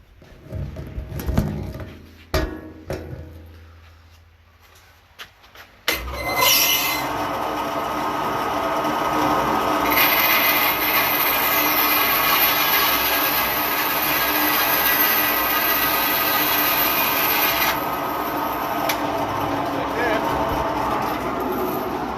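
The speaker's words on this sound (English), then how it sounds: "we're going to go to the bandsaw, and then one more time to that dusty edge sander." A bandsaw and dusty edge sander shape a glued-up wooden guitar neck blank. Talk and scattered bumps come first, then a loud machine drone kicks in and holds steady to the end.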